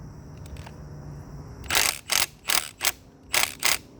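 A power tool working on the M12 flywheel bolt during engine disassembly, giving six short, sharp mechanical ratcheting bursts in quick rhythm after a quiet start, close and clear.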